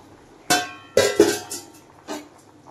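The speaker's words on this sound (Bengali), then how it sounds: "এবার আমি ভেজে রাখা মাছগুলি দিয়ে দেবো এর মধ্যে।" Fried fish pieces go into a pot of simmering potato curry, giving several sharp metallic clinks and knocks of a utensil against the pot, spaced irregularly and close by, with no talking.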